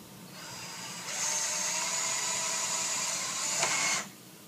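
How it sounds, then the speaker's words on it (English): A handheld power drill boring a hole through wood, a steady high whine that rises in intensity as the trigger is pulled harder, then cuts off abruptly once through; close and alone. "once you start to make a hole, pull it harder until you make it all the way through"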